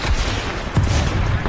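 Grenade blast in Apex Legends: a dense, loud burst of explosive noise that fills the whole moment, with a sharper boom punching through midway amid rumbling battle din.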